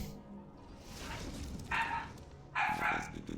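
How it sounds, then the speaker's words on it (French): Dogs howl and bark in two loud, drawn-out bursts with quieter yips in between. The sound comes in short clustered surges. "Les chiens qui hurlent"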